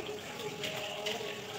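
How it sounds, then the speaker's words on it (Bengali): Water running steadily while a man bathes, a continuous close hiss and splash with slight surges, no voices. "বাবা স্নান করছে"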